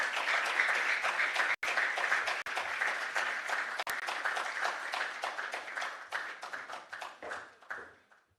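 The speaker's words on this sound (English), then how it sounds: "With a warm round of applause, please let's make welcome Mr. Courage Obadagboyin." A conference audience at a law and business event applauds a guest, a dense, steady round of clapping filling the room that thins and fades away near the end.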